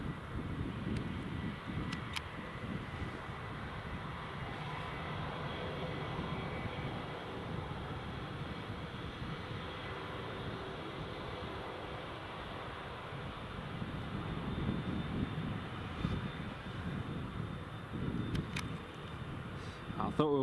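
A British Airways jet departs Newcastle Airport in the rain, its engines a steady, broad roar that swells slightly toward the end, with wind buffeting the microphone throughout.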